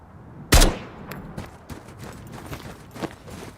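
Single loud rifle shot from an AK in a survival shooter game, followed by scattered fainter shots and clicks against a low ambient background.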